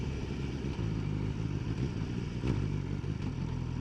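A BMW S1000R litre naked motorcycle engine runs close and loud with a steady, throbbing low rumble and light mechanical clatter, with minor swells but no big revs, heard without talk.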